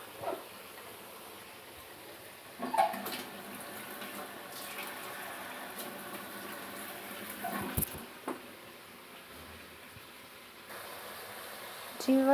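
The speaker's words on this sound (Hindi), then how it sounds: "अब हमें ग्रेवी चाहिए, तो इसके लिए हम इसमें आधा कप के करीब पानी ऐड करेंगे।" About half a cup of water goes into chicken korma in a cooking pot, making a soft running and splashing sound, with a few louder bursts and some speech in the background.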